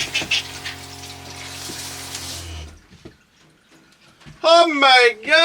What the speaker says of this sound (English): I still got the shower on.